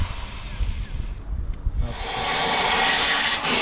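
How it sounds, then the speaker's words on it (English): Telco rust-removal wheel on a power tool stripping rust from metal in a boat's aft locker, a harsh continuous rasping grind that swells loud after a brief lull and holds steady near the microphone. "this is the distinct sound of the Telco wheel"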